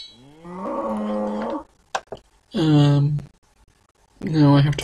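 Cow in RuneScape giving three drawn-out, loud moos with short gaps between them.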